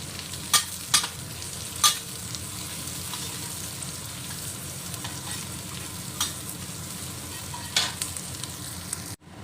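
Garlic and onion sizzling in hot oil for a prawn and crab kam heong, a steady crackling hiss punctuated by several sharp spatula clacks against the pan.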